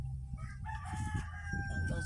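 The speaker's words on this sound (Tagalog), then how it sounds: "Tangkal sa chicken mga idol." A rooster crows nearby in a rural yard, one drawn-out cock-a-doodle-doo rising and held over faint background noise and low murmurs.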